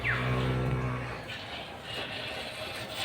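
A large heifer gives a deep, drawn-out low at the start, its call loud and close before trailing off into steady background noise.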